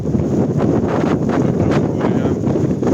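Strong gusting wind buffets a climber's microphone on Helgafell mountain in rain, a loud continuous roar with surging bursts filling the whole stretch.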